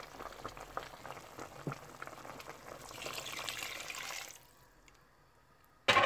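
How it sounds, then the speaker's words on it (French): Water hitting a hot pan of chili and onions while cooking plantain foufou, a steady bubbling sizzle that swells for a few seconds then drops to a quiet hiss before a short clatter at the end. "Et je rajoute de l'eau."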